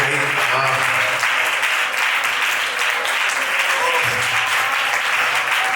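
Steady, full applause from a church congregation during a sermon, a dense wash of clapping with some voices underneath, continuing without a break.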